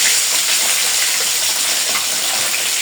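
An egg mixed with turmeric, chili and salt frying lightly in hot oil, a loud, dense, continuous sizzle close up with no voices.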